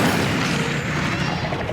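Fiery whoosh and rumbling burst of the Incendio fire spell being cast in the video game Hogwarts Legacy, a loud, close, sustained roar of flame lasting under two seconds.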